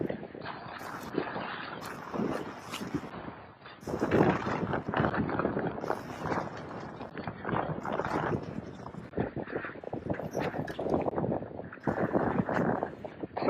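Wind blowing over Lake Garda at about 10 to 12 knots from the north during a Sunfish World Championship sailing race, a loud buffeting rush against the microphone with water and boat noise mixed in.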